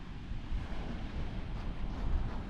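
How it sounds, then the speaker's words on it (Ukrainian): Steady, loud headwind rush buffeting close by with a low rumble while cycling along the Normandy coast, continuous and roaring, with faint surf-like wash underneath; no voices. "Відповідно, вітер мені обличчя."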